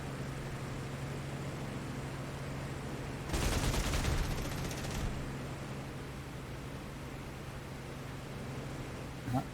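A Bf 109 K-4's 30mm cannon fires at B-17 bombers in the DCS flight simulator, a short rapid burst lasting a couple of seconds over a steady droning engine and wind roar.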